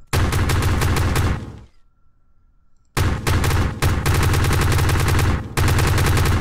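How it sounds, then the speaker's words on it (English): Guns of an F-86 Sabre fighter firing in Kerbal Space Program, loud rapid automatic bursts close up, a brief pause, then longer sustained strafing runs. "I can manually fire a gun."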